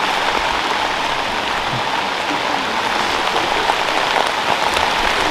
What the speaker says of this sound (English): The rain is pouring down yet again.